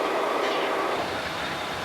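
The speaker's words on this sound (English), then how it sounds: "This train is parked on the main line at Liberty Lumber" A CSX freight train on the Clinchfield line near Erwin, Tennessee, rumbles steadily with broad, continuous rail noise, loud and close, with no talking.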